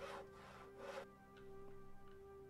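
Logs are gathered in the survival video game Stars End with rough rasping, sawing-like strokes, two loud bursts followed by fainter scraping and light ticks over a steady tonal hum.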